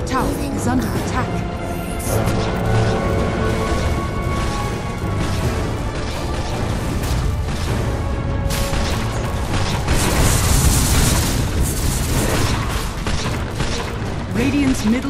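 Dota 2 tower under attack and falling, with dense game noise of clashing attacks, pops and mechanical impacts throughout, loud and busy, while an announcer's voice speaks over it.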